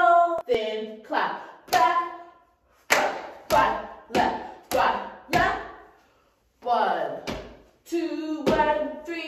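Hand claps and body slaps from a dancer during a K-pop dance tutorial, loud close percussive hits in rhythmic bursts, each ringing briefly, with short silent pauses between groups.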